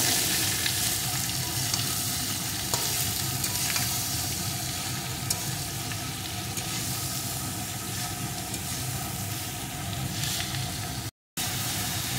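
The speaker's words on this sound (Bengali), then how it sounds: "চাল কুমড়োটা কিছুক্ষণ ভেজে নেব।" Chopped ash gourd fries in a pan with a loud, steady, dense sizzle and hiss close up, broken by a few faint stirring knocks and a brief cutout near the end.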